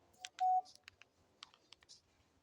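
A phone keypad is pressed to dial a number: one short electronic beep followed by a quiet run of light, irregular button taps, close by, with no voices.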